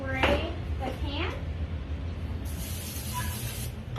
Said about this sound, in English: I'm just gonna spray the pan